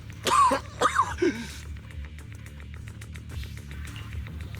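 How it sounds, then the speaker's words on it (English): A few harsh, strained coughs, a character coughing up blood in a Zenless Zone Zero cutscene, come in quick succession at the start, then fade into quiet background tone. "You're coughing up blood."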